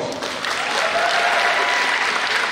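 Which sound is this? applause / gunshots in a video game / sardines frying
applause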